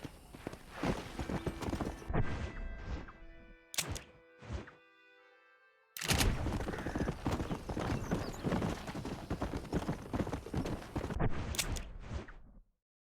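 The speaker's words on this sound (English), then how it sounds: "Traveling on a donkey is fun, but getting chased by enemies on horses and you're just too slow." A donkey's hooves clip-clop in rhythmic steps in the video game Red Dead Redemption. The loud, close hoofbeats break off briefly with a few sharp knocks, then resume at a steady trot.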